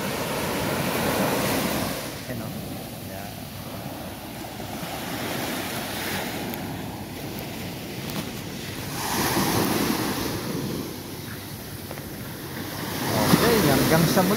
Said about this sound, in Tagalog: Yung mga alon.